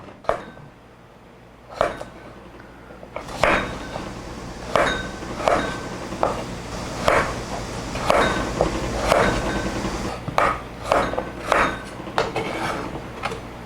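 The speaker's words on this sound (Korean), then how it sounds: "이렇게 감자를 썰어서 준비해 주시면요" A knife chops potatoes into large chunks on a cutting board for a gochujang potato braise, giving a steady series of sharp, fairly close knocks about every half second with no talking.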